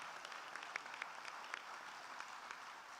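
An audience applauds during a speech by New York State Comptroller Thomas DiNapoli, a distant, even patter of many hands clapping together, faint and continuous.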